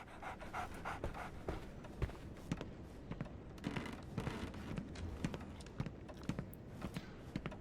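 A dog pants in the video game Sherlock Holmes The Awakened, giving rapid, rhythmic breaths that come up close and quiet, punctuated by faint taps and clicks, with no talking.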